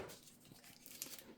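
Tape tearing and crinkling while a wire tree on a hoop is taped up, a short, quiet, rough ripping run with a few crisp crackles.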